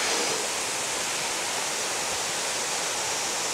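A jungle waterfall roars as a dense, steady broadband rush of falling water, loud and close and unbroken throughout, with no voices.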